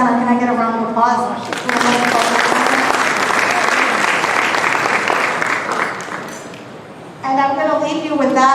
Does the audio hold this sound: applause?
yes